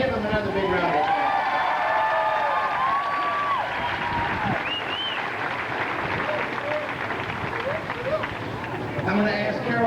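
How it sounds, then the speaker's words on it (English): Applause and cheering from a large audience at a sales recognition event on stage aboard a Caribbean cruise, a steady, dense wash of clapping and whoops that runs loud throughout with some shouted voices mixed in. "Give them another big round of applause."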